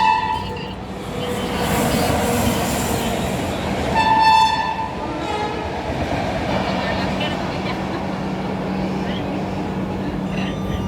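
A non-stop train races past a waiting train in India, its horn blaring clearly as the passing wagons roar and rumble steadily, with voices talking over the noise.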